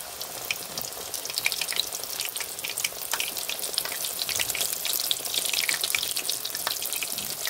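Breaded pollock fillet pieces crackle and sizzle steadily in hot oil, a dense, bright frying hiss that stays constant throughout with no talking.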